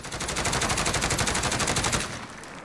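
A SIG Sauer 556 fitted with the SWAT RFT conversion fires one sustained full-auto burst in Call of Duty Modern Warfare, loud, fast and evenly spaced shots for about two seconds, then stopping abruptly.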